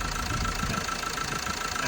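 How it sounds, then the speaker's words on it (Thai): Car idling with a stock exhaust and modified catalytic converter, a steady low engine hum with a soft even pulse, close and continuous for the whole short stretch without talk. "ท่อซิ่งกับ ท่อเดิมใส่แคทโมเนี่ยคือส่งเสียงเนี่ยของชุดท่อไอเสียเนี่ยเราจ ะฟังรู้เลยว่ามันเงียบขึ้นนะครับ"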